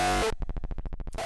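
A run of eleven evenly spaced, punchy Roland 909 kick drums for hardstyle, bass-boosted ahead of distortion, hitting in a fast steady roll with deep low-end thump, bracketed by brief bursts of noisy tone.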